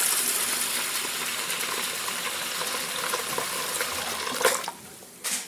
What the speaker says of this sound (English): Fill the bowl with cold water.